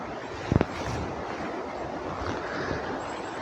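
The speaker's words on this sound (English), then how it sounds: "there's a lovely little waterfall just there, which you can probably hear" A small waterfall beside a river in the Peak District gives a steady, moderate rushing hiss, with a couple of brief knocks near the start and no voices.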